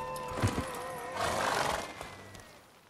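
A horse whinnies twice in The Witcher 3, a short bright call and then a longer, louder neigh, close by over a faint background.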